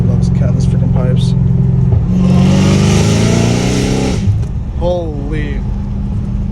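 A Dodge Hellcat Redeye with catless exhaust pipes revs loudly up close, a sharp rising roar over a deep rumble, with someone talking before and after the burst.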